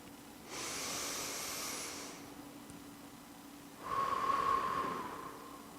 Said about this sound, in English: This is called belly breathing.